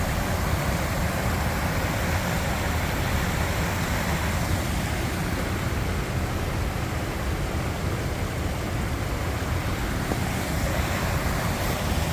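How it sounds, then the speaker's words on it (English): Small waterfall in an outdoor area of Delta County, running water making a continuous broadband rush, steady and moderately close, with no voices. "Little mini waterfall."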